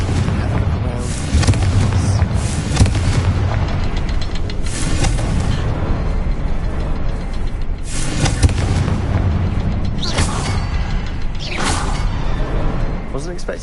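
Loud booms and blasts from the Confringo fire spell in Hogwarts Legacy burst repeatedly with whooshing impacts over a dense game soundtrack, while a voice talks throughout.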